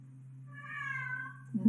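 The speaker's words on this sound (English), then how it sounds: "You can hear Thomas the cat." A single drawn-out cat meow, clear and fairly close, followed by a brief soft bump at the end. No talking.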